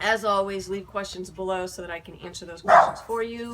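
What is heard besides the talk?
dog barking in the background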